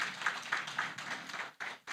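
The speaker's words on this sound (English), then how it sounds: "Please join me in welcoming His Excellency Senator Kashim Shettima with a resounding applause." A conference audience claps a welcome for Senator Kashim Shettima, a steady wash of applause from a crowd, fairly faint and distant, briefly dropping out near the end.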